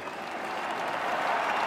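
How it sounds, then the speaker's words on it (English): A crowd outside the White House applauding Lincoln as he steps onto the balcony, a dense steady wash of clapping that swells slightly toward the end. "Langston joins the crowd in applause"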